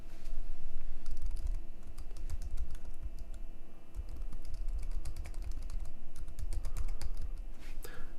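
Account details are typed on a computer keyboard, a steady close patter of key clicks with brief pauses, no voices.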